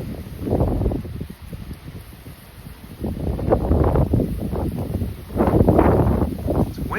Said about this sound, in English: Windy today, but at least it's sunny.